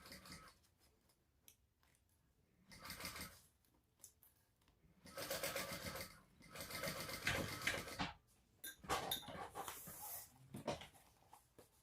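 Sewing machine basting the side seam of a crossbody bag at a narrow seam allowance, running in several bursts of varying length with pauses between, moderately loud and close.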